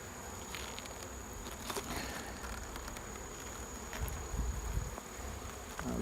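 Honey bees buzz steadily in an opened hive that has no queen, a dense, continuous hum close by with faint rustling and a few soft knocks.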